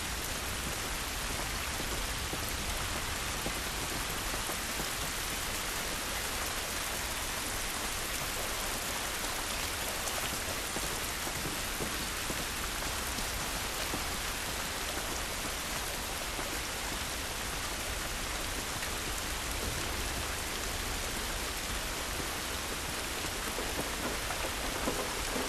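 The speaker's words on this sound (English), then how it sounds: "This rain ain't gonna do us any good." Steady, dense rain falls throughout a scene in the video game The Last of Us Part I, a constant even wash of drops with no pauses and no voices.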